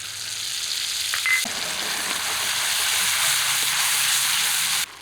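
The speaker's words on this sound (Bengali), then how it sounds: "আদা কাঁচা লঙ্কা পেঁয়াজ কষিয়ে নিলাম যাতে কাঁচা গন্ধ না থাকে" Ginger, green chilli and onion paste frying in a pan for a katla fish curry, a loud, steady close sizzle and hiss that cuts off abruptly near the end.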